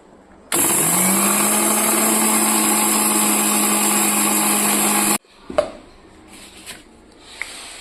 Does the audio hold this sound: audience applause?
no